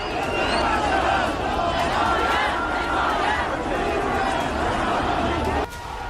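Massed voices of an angry protest crowd in Iran shout slogans together, a dense, loud roar of chanting and shouting that runs steadily throughout before dropping slightly at the end.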